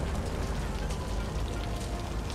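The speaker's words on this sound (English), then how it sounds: "man, the rain is so heavy. It's so hard to see. It's coming down like cats and dogs." Heavy rain pours down steadily in the city-building game Cities: Skylines, a dense, constant wash of rainfall with no voices over it.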